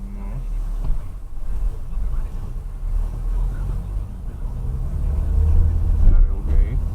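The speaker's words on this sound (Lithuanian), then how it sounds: "per daug girdi kaip variklis triukšmauja" A car engine revs loudly in city traffic in Šiauliai during an early driving lesson with a learner at the wheel. Its low, steady rumble swells toward the end, with voices talking over it.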